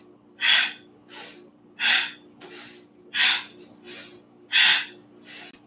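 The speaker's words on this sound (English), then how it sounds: "Powerful breathing again" Forceful, rhythmic breaths from a yoga breathing exercise during a spine-opening practice: about seven strong, evenly spaced huffs of air pumped out one after another, close and clear against a quiet background.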